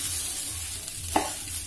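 Rice for a Bengali vegetable chicken pulao being stirred and fried in a pan, a steady soft sizzle with one brief scraping stir near the end, quiet and close, with no voices.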